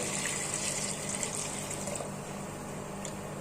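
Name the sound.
water poured into pot for sambar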